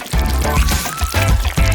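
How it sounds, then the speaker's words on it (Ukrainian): Coloured liquid jelly pours in quick successive glugs into a plastic bottle, each gulping burst close and loud with short breaks between pours. "Потім наливаємо жовтий, тепер червоний, синій і фіолетовий."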